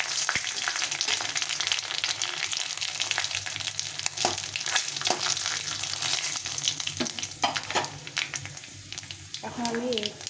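Whole spices, dried chili, a bay leaf, nigella seeds and panch phoron, fry in hot oil, producing a continuous close sizzle with crackles and occasional utensil scrapes.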